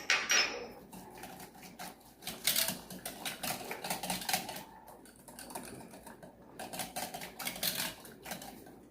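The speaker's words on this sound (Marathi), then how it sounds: "आपल्याला दही आणि बेसन मिक्स करून घ्यायचे" Curd and gram flour, seasoned with salt, are stirred together in a bowl for kadhi, giving a steady run of close clinking, scraping and tapping sounds from the utensil against the bowl, with no voices.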